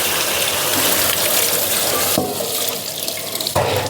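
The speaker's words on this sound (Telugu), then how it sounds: "ఇక్కడ వాటర్ వచ్చి కరెక్ట్గా సింక్లో పడుతుందని సెట్ చేశాను" Tap water gushes hard into a sink late at night, a loud continuous splashing rush that shifts in tone partway through as the stream moves, alone without talk.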